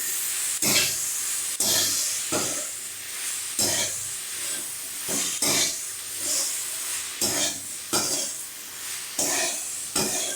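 Ginger paste cooks in a hot pan for khichuri, a constant sizzling hiss punctuated by a regular series of about a dozen scraping spatula strokes, close and clear with no voices.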